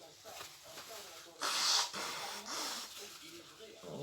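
A short nasal sniffle from a runny nose, blamed on wearing a mask, during a scrapbook album craft session: one quick breathy snort up close, with soft handling noise around it.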